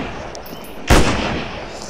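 A single sharp, loud gunshot with a brief echoing tail fires in a mobile 3D dinosaur hunting game on Android, surrounded by quiet game ambience.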